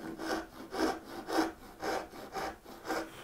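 Hand saw cutting a half-blind dovetail in wood clamped to a tabletop, six even rhythmic rasping strokes, close and clear with no talk.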